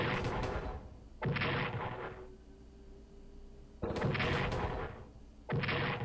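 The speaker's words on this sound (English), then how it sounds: "They do defensive artillery." Defensive artillery fire in the Strategic Command war game, four booming blasts in two pairs, each with a short rumbling tail, with quiet gaps between them.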